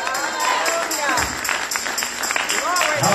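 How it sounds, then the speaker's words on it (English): A church congregation claps during a Sunday service, with irregular clapping mixed with voices and cries of praise, moderately loud throughout. "Clap your hands and give God praise."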